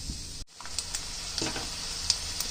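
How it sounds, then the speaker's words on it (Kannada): Peanuts and roasted gram fry in oil, producing a steady close sizzle broken by a brief gap, with light scraping and small pops as the pan is stirred. "ಶೇಂಗಾ, ಪುಟಾಣಿ ಚೆನ್ನಾಗಿ ಆಯಿಲಲ್ಲಿ ಬೇಯಲಿ."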